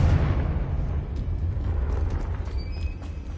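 A Confringo spell explosion in Hogwarts Legacy, a deep booming blast that rumbles loudly and decays over a few seconds, with faint crackles afterward.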